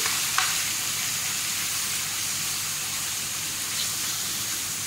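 Chicken pieces fry in hot oil in a pan, a dense, steady sizzle and crackle throughout, with no talking.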